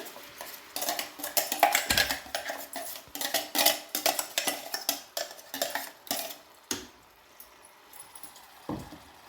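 A ground masala paste fries in oil in a kadai while a metal spoon scrapes and clinks against the pan in irregular bursts, close and fairly loud, fading near the end.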